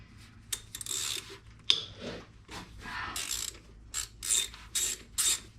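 A ratchet on an extension clicks in short bursts, close and crisp, while loosening the throttle body bolts on a 1995 Ford F150, several quick rattling strokes separated by brief pauses.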